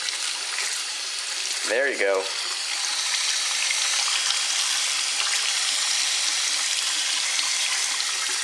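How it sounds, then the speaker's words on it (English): A kitchen faucet runs water steadily over a Kyocera Hydro Elite phone, rinsing it with a constant loud hiss. A brief spoken remark is heard near the start. "Better turn on the faucet and give her a nice rinse off."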